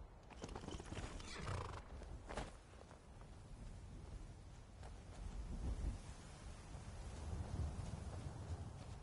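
A horse whinnies and hooves clatter in Skyrim, over a dense rumbling backdrop like rain and distant thunder.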